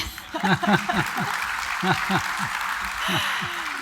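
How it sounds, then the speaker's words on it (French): Audience applause at a conference opening ceremony, a burst of clapping that fades and swells under someone speaking over it, with scattered hand claps standing out. "les hommes, vous pouvez applaudir ces femmes aussi"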